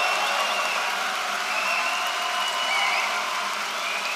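A live debate audience claps to cast a vote, a steady, dense wash of applause from many hands that holds at an even level throughout, with no voices rising above it.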